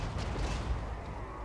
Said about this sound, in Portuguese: Se você ouvir ele dando tiro de canhão lá pro outro lado.